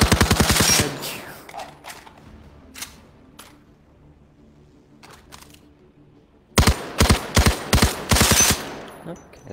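Rapid bursts of automatic gunfire from a gun in the shooter game Zero Caliber, a close, loud rattle at the start, sparse single shots in a quieter stretch, then two more fierce bursts near the end.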